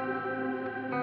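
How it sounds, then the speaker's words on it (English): A music mix with a shimmer reverb effect added, producing a sustained, bright, layered wash of tones with a shimmering upper sheen, heard alone and steady for about a second. "Adding shimmer."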